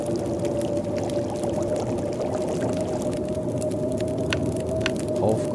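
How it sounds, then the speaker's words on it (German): Snow melts into water over a fire in The Long Dark, a steady simmering, bubbling wash with faint crackles running unbroken throughout, no one speaking. "Schmelzen wir noch ein bisschen Wasser."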